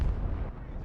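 Bomb blast from an SU-34 strike in the military strategy game Broken Arrow, a loud, dense low rumble filling the whole short moment with no pause.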